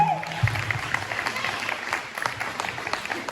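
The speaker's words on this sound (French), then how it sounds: "Clap for her." Church congregation applauding in a sustained patter of clapping, with crowd murmur and voices mixed in underneath.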